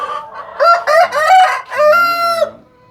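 A Bangkok rooster, recovered from a snoring illness, crows loudly and close by, a single full cock-a-doodle-doo with a long final note.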